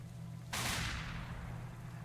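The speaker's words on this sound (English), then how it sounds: "That was a loud gunshot" A loud gunshot goes off in the video game Tokyo Dark: one sharp blast with a long fading tail, heard over a low steady game hum.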